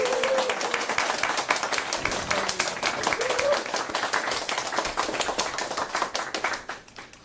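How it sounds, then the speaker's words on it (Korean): Audience at a Democratic Party members' event clapping steadily for a party leader, a sharp, rapid crackle of many hands that holds for about seven seconds before tapering off at the end. "큰 박수 부탁드립니다."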